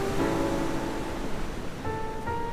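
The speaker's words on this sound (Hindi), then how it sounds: "गरजती लहरें चट्टानों से टकरा रही थीं।" Ocean surf crashes against rocks on a moonlit beach at night, a continuous broad roar of breaking water with a faint tonal hum underneath and no voices.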